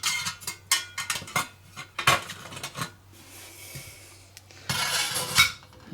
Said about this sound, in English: Your pot will quite happily sit on top of that.